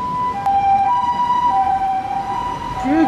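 An ambulance siren wails in a steady two-tone pattern on a city street in Sumida, Tokyo, moderately close and heard over traffic rumble, with a faint voice briefly at the end.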